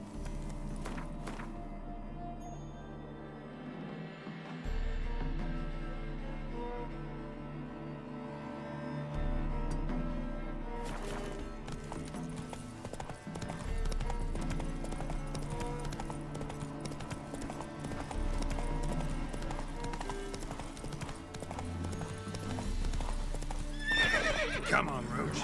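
Roach the horse in The Witcher 3 on PS5 gallops with steady clip-clopping hooves, whinnying and snorting along the way, under swelling game music and ambient sound, with a rider's brief commands.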